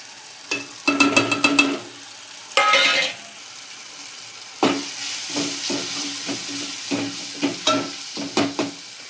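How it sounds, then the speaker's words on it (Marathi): Chopped tomato and masala sizzle and fry in a pot for chinch dal, with repeated stirring scrapes in irregular bursts, loud and near, and no talking. "हा टॅमॅटो चॉप केलेला आहे तो टाकून द्यायचा ह्याच्यामध्ये आणि अशा प्रकारे दोन तीन मिनटं थांबायचे"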